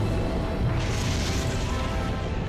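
A deep, rumbling boom of a massive explosion from an impact at Meteor Crater, loud and sustained with a roaring swell through its middle, no voices.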